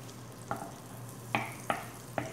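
Butter and garlic frying in a pan for Filipino kinamatisang manok, a soft steady sizzle broken by four sharp clacks of a utensil stirring against the pan, no talking.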